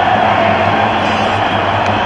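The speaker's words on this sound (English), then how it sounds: "Great applause once again for some fine fielding." A cricket crowd at the 2003 World Cup match between Kenya and Sri Lanka applauds fine fielding, a loud, steady wash of clapping and crowd noise.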